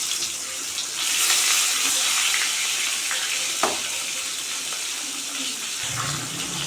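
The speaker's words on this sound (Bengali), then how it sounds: "মাছের মাথাটাও ভাজা হয়ে গেছে" A fish head frying in hot oil in a pan for a Bengali fish curry with green bananas gives a continuous, close, hissing sizzle that swells slightly and carries one brief knock partway through.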